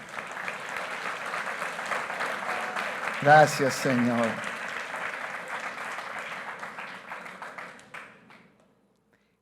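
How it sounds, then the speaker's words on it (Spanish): Church congregation at a Sunday service applauding, sustained loud clapping from a crowd, with a voice speaking briefly in the middle, then fading to silence near the end. "Y denle un fuerte aplauso al Señor"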